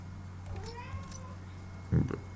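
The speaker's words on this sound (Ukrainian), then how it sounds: "Виходь, блін, надвідлива кішка." A house cat meows in a few drawn-out, rising cries at moderate distance over a steady electrical hum and faint game audio from Need For Speed Underground 2.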